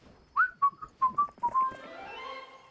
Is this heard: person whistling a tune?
yes